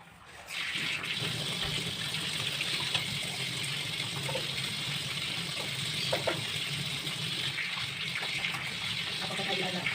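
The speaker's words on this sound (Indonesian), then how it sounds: "selanjutnya saya akan melakukan cuci tangan" Tap water runs steadily into a sink as hands are washed, a continuous close gush with faint splashes and no talking.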